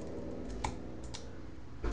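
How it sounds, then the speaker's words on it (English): A few sparse, faint keystrokes tap on a computer keyboard at a desk, soft clicks over a steady background hum, with no talking. "as you're typing out"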